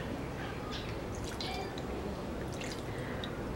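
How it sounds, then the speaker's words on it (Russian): Water poured over eyeshadow swatches gives a steady wet splashing and dripping wash with a few brighter splatters, close and continuous with no talking. "Сначала мы просто льем воду."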